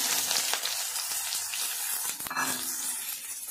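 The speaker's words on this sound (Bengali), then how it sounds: "এখানে আমি 3টে মাঝারি সাইজের পেঁয়াজ কুচি করে কেটে নিয়েছি, এটা দিয়ে দেবো।" Chopped onions, three medium ones, hitting hot oil in a pan for a potato curry: a steady, fairly close crackling sizzle with a few sharper pops, no voices.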